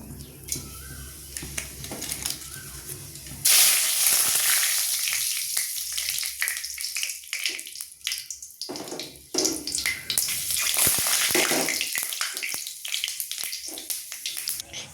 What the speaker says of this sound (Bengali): তেল গরম হয়ে গেছে, আমি একে একে সব কিছু দিয়ে দেবো